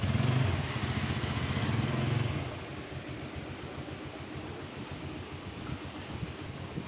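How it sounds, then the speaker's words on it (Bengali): A TVS Apache motorcycle engine in neutral after a self start, its steady mechanical chug loud at first, then settling into a quieter, even idle. "নিউট্রাল অবস্থায় সেলফ হচ্ছে, কোনো ব্যাপার না, কোনো সমস্যা নেই নিউট্রাল অবস্থায়।"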